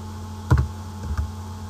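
A few keystrokes on a computer keyboard, a light double click followed by two fainter taps over steady background hum.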